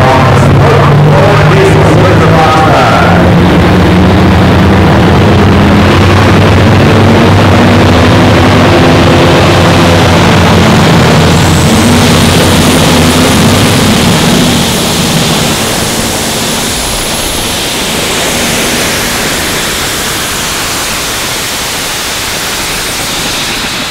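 Diesel super stock pulling tractor with big turbos at an outdoor pulling event, a loud, continuous roar with a high turbo whistle, dense and close, slowly fading over the pull.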